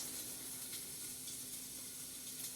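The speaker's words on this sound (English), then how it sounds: "we're going to let them sizzle" Vegetables sizzling in hot oil in a pan, a soft continuous hiss and crackle that stays even and fairly quiet with no talking over it.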